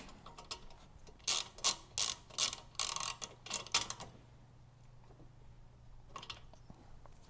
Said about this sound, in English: tighten it down with our deep socket wrench